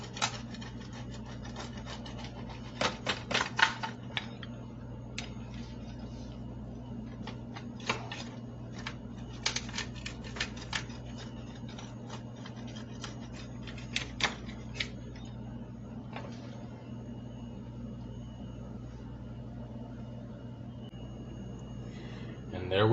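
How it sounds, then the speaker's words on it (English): A knife or cutter scrapes and crunches through a homemade Italian sausage pizza in short, irregular bursts. Steady background hum runs beneath the close, dry cutting sounds. "I'm gonna go ahead and cut my pizza"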